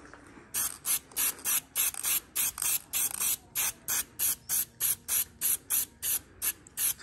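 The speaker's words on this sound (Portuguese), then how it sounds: "Vou começar a pintar aqui as tampas." Short bursts of matte black spray paint hiss from an aerosol can onto motorcycle (motorizada) engine covers, about fifteen quick evenly spaced sprays close up, with a faint mechanical hum beneath.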